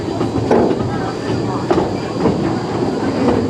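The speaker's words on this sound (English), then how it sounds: "We are riding on a narrow gauge railway" A narrow gauge steam railway train at the Hesston Steam Museum rolls downhill into the Hesston Hills, with a steady rumbling ride noise, faint rhythmic wheel clacks and a high thin squeal, heard from on board.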